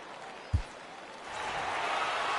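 Stadium crowd in MLB The Show baseball video game swelling into steady cheering after a single thump, the broad roar building and holding loud to the end.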